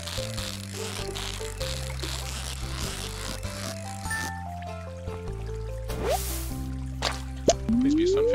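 Stardew Valley fishing in a river: game music with stepped tones runs throughout, and a few short rising plops and a splash of the cast line land near the end, with faint talk at times.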